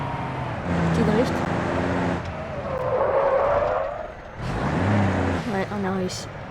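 A car drifting in BeamNG.drive, a loud steady engine roar with tire skid squeals rising and falling, under someone speaking over the game sound.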